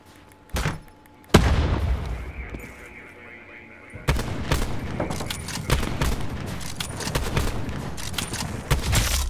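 Rapid gunfire from a sniping match in an online shooter game, with a few loud single shots followed by a dense stretch of continuous firing and booms, close and loud, with players talking over it.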